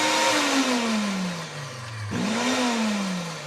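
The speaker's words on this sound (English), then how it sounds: "Throw your oats in there, blend her up." Blender pulsing oats into oat flour in a home kitchen, a loud whirring motor that drops in pitch, cuts briefly, then restarts and winds down again, close and without talk.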